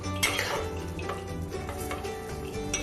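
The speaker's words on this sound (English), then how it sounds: "Then we just stir this" A spoon stirs cashews through boiling sauce in a pan for Chinese cashew chicken with peas, giving soft clinks and scraping against the metal over a steady bubbling hiss.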